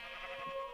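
A pink sheep in the Minecraft video game gives a short, nasal bleat, sounding close and alone for under a second.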